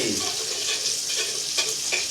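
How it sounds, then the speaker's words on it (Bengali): Sliced eggplant fries in a pan in a home kitchen, a continuous close sizzle and hiss with small crackling pops, heard almost alone with no clear talk. "আমি বেগুন বেগুন ভাজা করছি"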